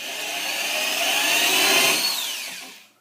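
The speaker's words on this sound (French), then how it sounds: "Là, on va prépercer" Power drill pre-drilling a hole in furniture, a single continuous whining spin that rises as the bit bites in and then winds down, close and loud, with no talking.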